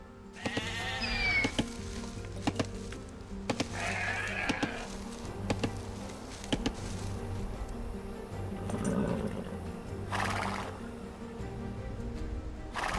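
Sheep bleating in Age of Empires II on Xbox Series X|S, several wavering bleats rising over steady game music and ambient layers that run throughout.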